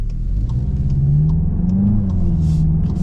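A front-wheel-drive 2026 Volkswagen GLI with a DSG gearbox pulls hard at full throttle, its engine note rising steadily in pitch as it revs up, heard from inside the cabin.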